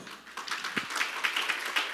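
Church congregation clapping at a Korean Sunday worship service, a quiet, diffuse patter of hands with a few sharper individual claps standing out across two seconds.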